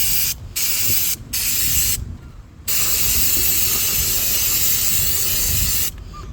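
Aerosol brake cleaner sprayed onto a car's brake caliper in a few bursts: two short hisses, a longer one, then a long continuous spray, close and loud with no talking.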